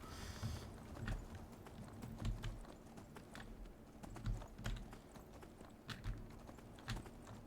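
Rhythmic hoofbeats of a horse trotting in the video game Skyrim, soft and regular, with light clicking sounds alongside and no voices.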